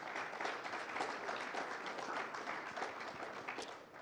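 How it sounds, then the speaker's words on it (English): Steady audience applause at a televised budget forum in Ghana, welcoming a guest onto the programme; dense, continuous clapping at moderate distance that holds throughout and eases slightly at the end. "A round of applause"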